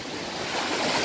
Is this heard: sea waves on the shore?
yes